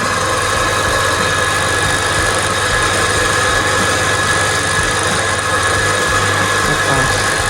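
An electric motor drives a rotary gear pump in a steady, loud, continuous hum with a constant mechanical drone and faint vibration throughout, with no talking.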